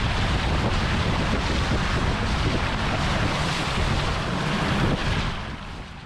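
A Toyota Land Cruiser 100 HDJ ploughs through deep floodwater on a meadow, with a loud, continuous rushing and sloshing of water that fades slightly at the end.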